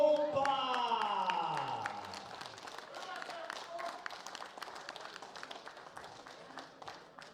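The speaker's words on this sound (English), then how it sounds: "A big round of applause for Seppo Kolpa." A voice fades out while a crowd at a world bench press championship medal ceremony claps steadily, the applause of many hands continuing at moderate loudness throughout.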